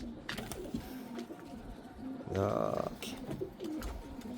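Pigeons in cages on a rooftop loft cooing in soft repeated bursts, with one stronger coo close by midway, under someone talking.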